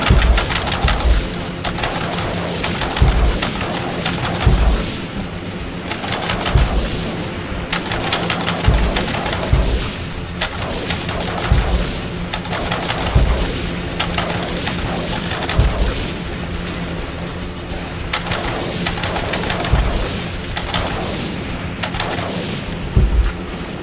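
Rapid, dense gunfire fills the arcade shooter Time Crisis 2 as turrets are shot, with loud repeated bangs and heavy booming impacts over a continuous roar of game effects, close and relentless.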